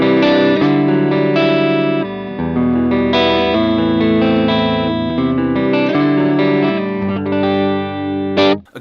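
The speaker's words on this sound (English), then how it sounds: "So what I did here is I drug in an amp and cab of the AC30 Fawn" Electric guitar played on the neck pickup through an HX Stomp modeling an AC30 Fawn amp and cab set at the edge of breakup, a loud sustained run of chords and notes with effects, ending in a brief burst.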